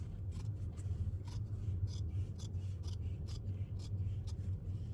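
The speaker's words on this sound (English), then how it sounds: "I'm gonna trim it like this to get it right up to the edge of that envelope." Scissors trim paper for a journal cover in a run of quick, crisp snips over a low steady hum, fairly faint and close, with no talking.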